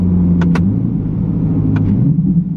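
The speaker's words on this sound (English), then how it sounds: "The exhaust sounds so good." A 2020 Chevrolet C8 Corvette Stingray drives with a steady, deep exhaust rumble that stays loud and close throughout, broken by a couple of brief higher-pitched clicks.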